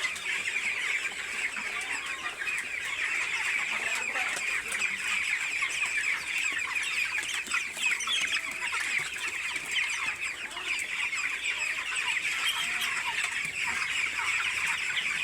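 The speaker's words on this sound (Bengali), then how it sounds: "মুরগি হাঁপাচ্ছে গরমে।" Eighteen-day-old broiler chickens crowded in a hot shed, a continuous dense chorus of soft clucks and chirps from many birds, steady and fairly close with no talking.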